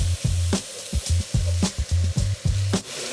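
Minced meat browning in a frying pan for spaghetti bolognese, a steady close sizzle broken by repeated scraping and stirring strokes of a utensil against the pan, roughly every half second.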